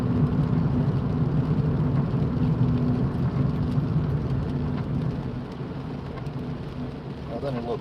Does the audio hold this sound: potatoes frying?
no